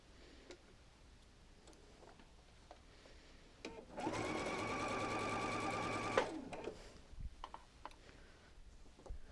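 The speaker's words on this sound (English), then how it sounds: "lift your presser foot so that you can turn it easily and sew off to that corner" A sewing machine stitches Double Wedding Ring quilt pieces in one steady, fast run of about two seconds, loud and close, set among quieter handling noises and light clicks before and after.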